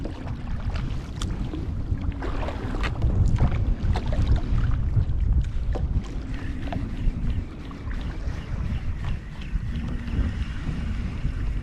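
Wind at sea buffeting a small fishing boat, a loud continuous low rumble of gusts over the microphone with water slapping and faint creaks and knocks of the hull.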